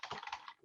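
Rapid, close keystrokes on a computer keyboard form a short, dense burst of clicks with no talk over them.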